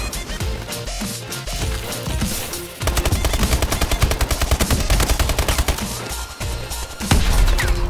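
An ASM1 gun in Call of Duty: Advanced Warfare fires in loud, rapid automatic bursts, the steady rattling volley dominating the mix with little speech.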